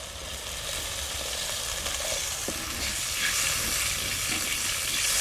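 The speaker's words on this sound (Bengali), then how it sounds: "মশলাটা ভাজা হয়ে গেছে, এবারে দিয়ে দেবো পরিমাণ মতো জল।" Water poured into frying spice paste of chili powder and salt in a pan for tuna fish curry sends up a loud, steady sizzle and hiss that holds throughout with no talking.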